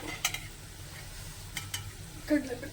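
Food stirred and frying in a pan while a side dish of menthe soppu palya is cooked, with soft sizzling and a few brief scraping stirs, faint and close, no talking.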